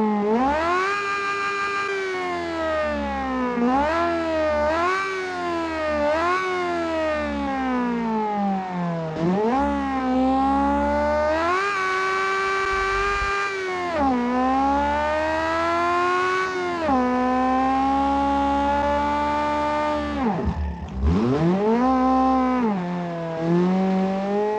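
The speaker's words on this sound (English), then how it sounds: "It's a naturally aspirated inline 4, making 50 horsepower only. 50. And it's really, really loud." A small 270 cc naturally aspirated inline-four engine making 50 horsepower revs very loudly, its high whining note climbing and dropping again and again in long wailing sweeps that never pause.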